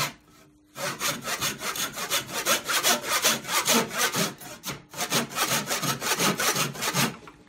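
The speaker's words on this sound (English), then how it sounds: "Now I'm definitely hitting a jaw, or I'm not hitting it, I'm rubbing against it." A wood lathe turning a desk-top pen pot, with the cutting tool rubbing against a chuck jaw, gives a rapid repeating scraping chatter in close, rhythmic bursts, briefly pausing partway through.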